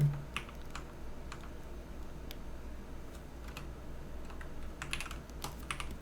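Computer keyboard typing during Blender 3D modeling, with sparse single key presses and quick clusters of clicks, close and crisp over a low steady hum, with no voices.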